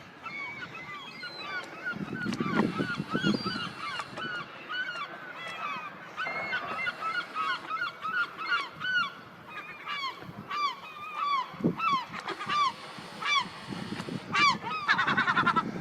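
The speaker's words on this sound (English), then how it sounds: "Seagulls have been really noisy lately." Seagulls calling outdoors in England, a noisy, steady chorus of repeated harsh, honking cries from several birds, some near and some farther off, over faint background rumble.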